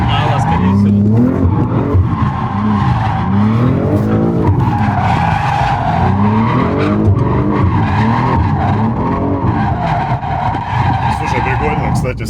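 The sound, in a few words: BMW M2 drifting with tire squeal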